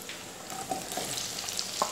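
Onions sauté in a pan for a Gujarati-style aloo gobi curry, a short burst of soft, close hissing sizzle with a couple of light stirring ticks.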